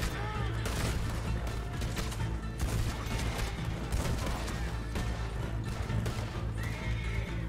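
Horses neigh and whinny repeatedly over steady hoof clatter in the Western video game Red Dead Redemption 2, with occasional gunshots in a dense, continuous game mix and no talk.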